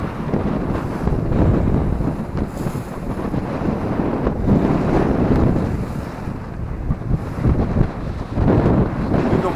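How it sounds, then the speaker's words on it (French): Rising sea off the Corsican coast near the Sanguinaires and Cargèse, heard aboard a sailboat under reduced sail: heavy wind buffeting and a deep rolling wash of water, loud and unbroken. "La mer qui se lève petit à petit."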